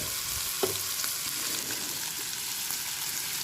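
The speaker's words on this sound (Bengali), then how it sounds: "ততক্ষণ আলুটাকে ভেজে নেব গ্যাসের ফ্লেম মিডিয়ামেই থাকবে" Steady sizzling of potatoes frying in a pan over a medium gas flame, a constant crackling hiss with an occasional soft clink of stirring, close and even in level.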